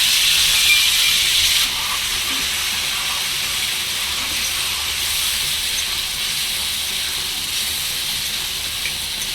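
Chicken gizzard and liver frying in hot oil with cumin and bay leaf, a steady loud hiss and sizzle that runs without a break, with a slightly brighter crackle at the start.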